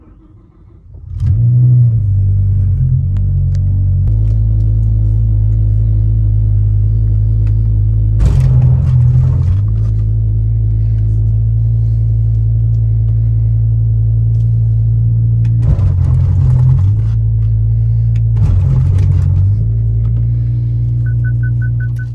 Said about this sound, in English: the car sounds like it's hitting a brick wall every time you put it into either reverse or drive